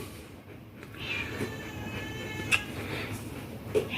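A mother cat carrying her kittens meows in short, clear calls several times over a faint background rumble, moderately close.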